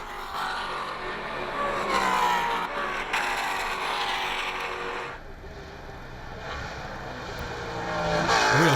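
Maserati Trofeo race cars at speed on the Road America circuit in 2015, a steady loud engine roar that fades slightly midway then builds again as cars pass, with a faint voice underneath.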